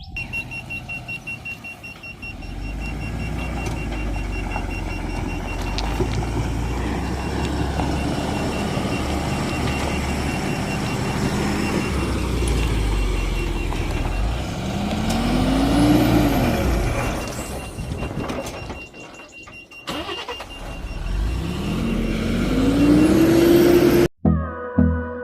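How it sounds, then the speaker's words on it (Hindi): A local transport truck reverses to unload its load for road work. A steady engine drone runs throughout under repeated reversing beeps, with two rising hiss-like air-brake releases and a loud burst near the end. "अभी यहाँ से गाड़ी घुमा के चलते पीछे की तरफ खाली करना है।"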